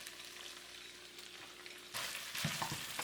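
Green onions, dressed with sesame oil and oyster sauce, sizzle in a pan over medium heat: a soft steady frying hiss, then louder stirring and scraping noises in the second half, quiet and close, with no speech.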